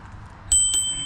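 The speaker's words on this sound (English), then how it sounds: "Got yourself a bell, like I said" Two quick bright dings from the handlebar bell of an isinwheel S10 MAX 1000W folding electric scooter, close and loud, the second ringing out a moment after the first over quiet background.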